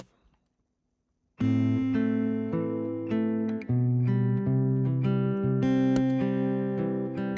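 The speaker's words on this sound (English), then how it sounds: "So that's basically just DI recorded acoustic guitar run through Archetype Petrucci" An acoustic guitar, recorded direct and run through an Archetype Petrucci 80s acoustic preset, plays ringing chords and picked notes after a brief silence, bright and polished, alone and up close for several seconds.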